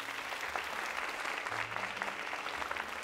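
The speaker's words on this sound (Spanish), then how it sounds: "recibamos con un fuerte aplauso a la hermosa Diana Bracho." Audience applause welcoming actress Diana Bracho onto a stage at a theater event, a dense steady wash of clapping hands filling the room for about three seconds, close and even in loudness.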